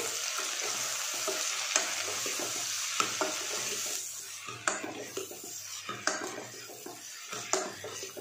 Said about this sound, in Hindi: लो फ्लेम पर एक मिनट तक जो हमने मसाले वगैरह डाले हैं तो एक मिनट तक इस तरीके से भून लेंगे